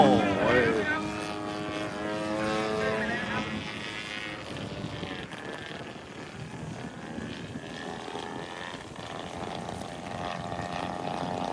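Radio-controlled Slick 360 3D aerobatic model airplane flying at an airfield, a high buzzing whine that rises and falls in pitch as it maneuvers, with people talking over it.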